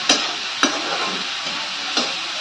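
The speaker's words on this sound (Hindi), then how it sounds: "इसको मैं चला देती हूँ" A spoon stirs food in a pot over a village wood-fired stove, with a few sharp scrapes against the pot over a steady low hiss of cooking, close and fairly loud, no voices.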